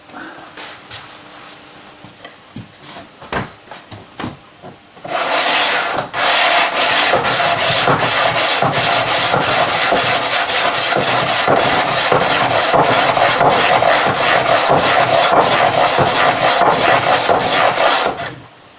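A guitar fretboard is radiused with coarse grit sandpaper: a few scattered scrapes, then a loud, continuous run of fast back-and-forth sanding strokes, close up and filling the rest of the clip, with no talking.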